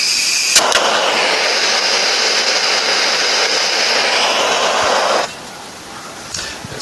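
A heat gun blows loudly and steadily on heat-shrink tubing over car wiring, a close roaring hiss for about five seconds before it cuts off.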